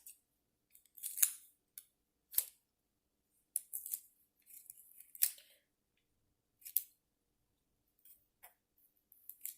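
Short strips of tape are snipped off with scissors, a series of quick, close, crisp cuts in separate bursts with quiet gaps between, no talking.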